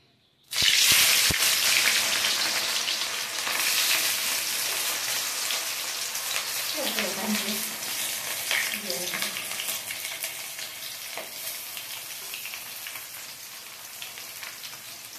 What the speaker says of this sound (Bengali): এবার আমরা তেলের মধ্যে দিয়ে দেবো পেঁয়াজ কুচি